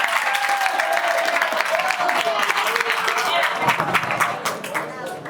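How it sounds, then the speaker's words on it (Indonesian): Loud, sustained applause from an audience at an Islamic school student's short sermon event, dense clapping with crowd noise and some voices, tapering slightly toward the end. "Kita beri tepuk tangan yang meriah untuk saudara kita kali ini."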